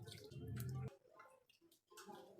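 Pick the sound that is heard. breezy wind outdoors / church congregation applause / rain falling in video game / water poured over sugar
water poured over sugar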